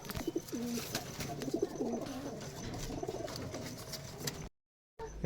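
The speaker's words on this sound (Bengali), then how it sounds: "এটাও কালো চোখ দুটাই মাদি কবুতর" Rajshahi Giribaj pigeons for sale coo in repeated low throaty phrases close by, steady for several seconds before a brief silence and a final rustle.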